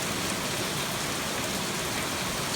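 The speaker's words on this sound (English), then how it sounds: "Yeah, we're getting some rain out of this." Steady rain falls around a porch, a dense hiss of drops spattering on surfaces, constant and fairly loud, with no voices.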